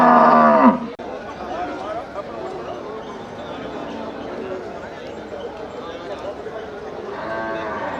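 A dairy cow moos loudly at the start at a cattle market in Melapalayam, followed by busy outdoor chatter and voices, with a fainter low moo near the end.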